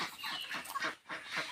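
Ducks and chickens in a coop give fairly faint, overlapping clucks and short calls in a busy, irregular stream, with a brief lull partway through.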